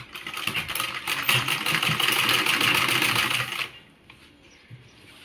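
Sewing machine stitching a 2-inch top strip onto a satin petticoat, running steadily and fairly loud for about three and a half seconds, then stopping, leaving quiet room sound.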